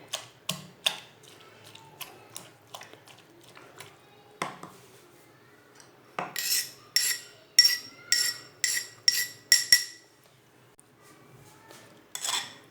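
Raw mango is pounded finely, producing a series of sharp, rhythmic knocks, some spaced apart and others coming in a quick burst. Each strike is distinct and close.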